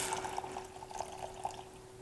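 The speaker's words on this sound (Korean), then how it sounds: "쌀이랑 같은 양의 물 200ml를 넣어 주세요" Water poured into a pot of sautéed rice and squid being cooked for a rice dish, a short close trickling splash with small bubbling spatters over a faint steady hum.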